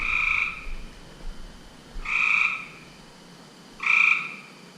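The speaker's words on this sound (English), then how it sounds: "I think it's a tree frog." A tree frog gives three loud, piercing croaks spaced about two seconds apart, each a short buzzing call over quiet background, echoing in an enclosed space.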